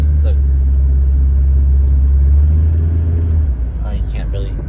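A Volvo 940 with a faulty kickdown cable creeps through stop-and-go traffic, its engine a loud, steady low rumble from inside the car that dips and shifts near the end as a gear engages.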